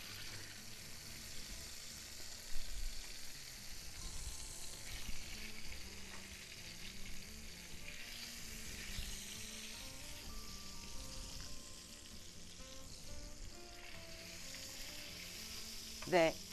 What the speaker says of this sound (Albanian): Do ta kthejmë sa në një anë në tjetrën, si që më mësuar ta skuqim.